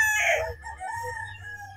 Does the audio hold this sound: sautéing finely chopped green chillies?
no